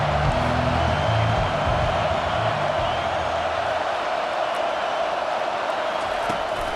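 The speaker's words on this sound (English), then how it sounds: "Decibels rising as the crowd gets behind this defense on 3rd down." Football stadium crowd during a third-down play in Kansas City versus Iowa, a dense, loud and continuous roar of many voices filling the space, with distant shouts mixed in.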